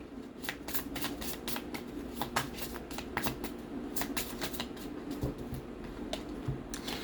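Tarot cards being shuffled by hand, a quiet close run of crisp riffling flicks in irregular bursts, with no talking.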